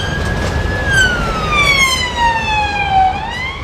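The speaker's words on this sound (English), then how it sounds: "Oh, and then there's a police car." A police car siren on a city street during an Edinburgh festival evening wails loud and near, its pitch sweeping downward as it passes, over steady traffic rumble.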